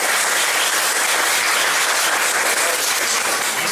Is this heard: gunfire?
no